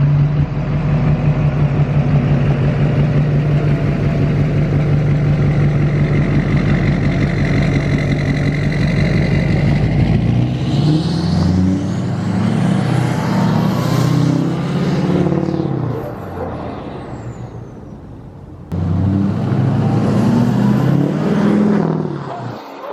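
A 2007 Chevrolet Duramax LBZ diesel truck engine runs outdoors, loud and close, with a steady idle rumble for about ten seconds, then a rise and fall of revs, a brief dip, and a second surge near the end.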